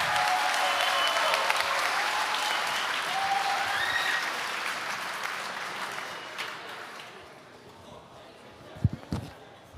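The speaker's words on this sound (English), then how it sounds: "please give a big round of applause to the chair of judges" An audience at a school racing competition knockout stage applauds the chair of judges with sustained clapping that gradually fades, followed by a couple of sharp knocks near the end.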